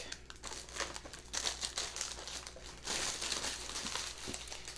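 Gift-box tissue paper is peeled back and crumpled by hand during an unboxing, a steady close crinkling and rustling that swells in louder bursts, with no voices.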